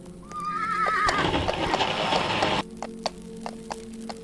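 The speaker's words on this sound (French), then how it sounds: "C'est moi ou j'entends un cheval?" A horse in a Roblox forest survival game whinnies with a rising, wavering neigh, followed by a noisy burst and then sparse clip-clop hoofbeats.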